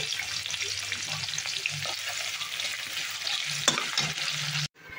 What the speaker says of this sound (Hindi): अब मैं इसी ऑयल में ये प्याज को गोल्डन ब्राउन कर लूँगी।